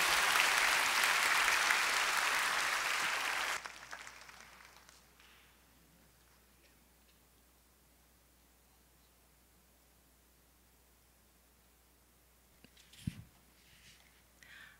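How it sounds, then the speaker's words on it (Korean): An audience applauds in a church hall to welcome a defector seminarian to the stage: dense, loud clapping for about four seconds, then it fades to near silence with a brief thump near the end. "박수로 모시겠습니다"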